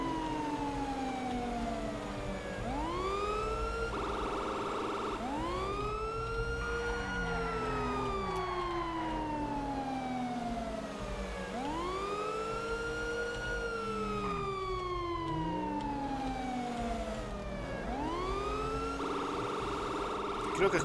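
Wailing emergency vehicle sirens rise and fall in long repeating sweeps, fairly distant but steady over a constant low road rumble, with more than one siren overlapping at times at a highway traffic accident scene.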